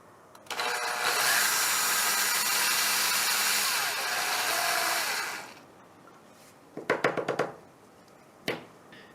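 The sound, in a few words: drilling out plaster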